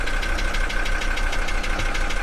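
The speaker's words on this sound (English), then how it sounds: "I wonder if I can adjust the throttle to rev up a smidge higher" The engine of an old Mercedes, left sitting in a garage for twenty years, runs steadily and loudly up close with a rough, knocking pulse, revved slightly higher while in gear.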